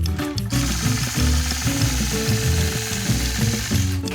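Domestic sewing machine stitching steadily during ruler quilting, its needle mechanism chattering in a quick, even rhythm close by, with a brief pause near the start.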